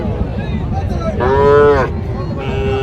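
A Sahiwal bull calf at a cattle farm lets out one loud, close moo lasting about a second, over a background of farmyard noise and murmur.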